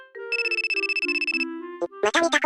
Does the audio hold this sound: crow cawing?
no